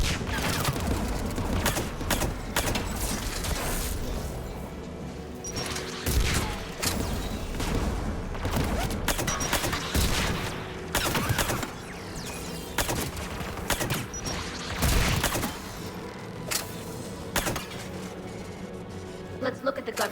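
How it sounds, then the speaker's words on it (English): Anti-aircraft guns firing in the video game Mass Effect 3 during the Battle for Rannoch, sustained heavy bursts of fire with booms and mechanical clanks running throughout, loud and dense with no clear pauses. "AA guns ahead of us."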